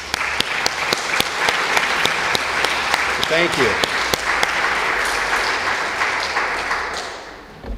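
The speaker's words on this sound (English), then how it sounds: "That deserves some applause." An audience at a homeless-charity celebration event bursts into sustained applause, many hands clapping steadily and fairly loud throughout, fading slightly at the end as a voice briefly speaks.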